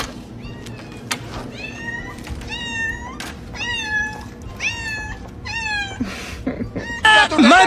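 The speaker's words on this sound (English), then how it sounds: "How my cat greets me when I'm back from work." A pet cat greets its owner returning from work with a run of clear, close meows, repeated every half second or so. Louder, rougher cries and some scuffling come near the end.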